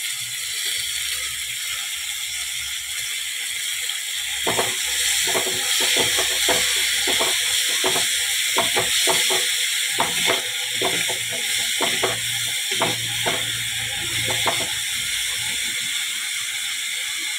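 Thuthuvalai leaves sauté with onions in a pan, giving a steady hiss of frying under repeated scraping and clattering strokes of a spatula that quicken midway, close and fairly loud with no talk.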